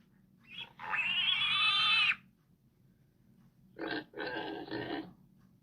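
A long, high piglet squeal is followed after a pause by a rough burst of pig grunts, close and fairly loud.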